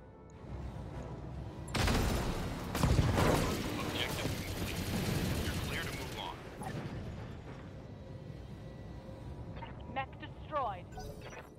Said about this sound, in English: about time we can blind fire the LRMs